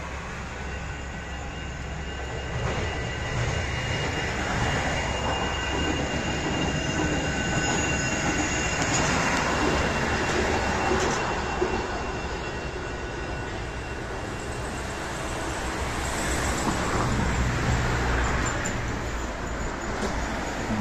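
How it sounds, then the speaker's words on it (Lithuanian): A Wuppertal suspension railway city train pulls out of a station, a sustained metallic rumble with squealing wheels and rising, shifting tones, loud and steady for about twenty seconds. "Čia važiuosim su miesto traukiniu. Va, matosi, išvažiuoja iš stoties"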